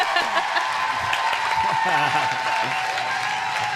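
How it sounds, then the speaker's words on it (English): A live comedy-show audience claps and cheers in a crowded room while a host keeps talking loudly over the applause throughout. "Give a round of applause, everybody."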